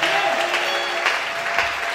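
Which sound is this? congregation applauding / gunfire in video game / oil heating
congregation applauding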